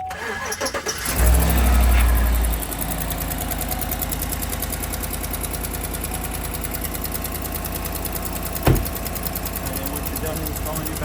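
A 2019 Chevy Silverado pickup engine cranks and fires up after a battery replacement, then settles into a steady idle, close and continuous, with a brief louder bump near the end.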